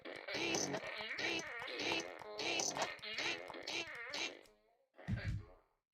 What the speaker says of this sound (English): Can you burp at will?